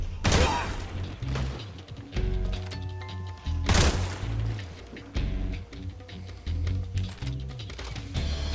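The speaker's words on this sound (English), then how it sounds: "I hear a lot of gunshots in the distance." Distant gunfire in Metal Gear Solid 3: Snake Eater, heavy booming volleys and rumbling blasts recurring over a droning game soundtrack.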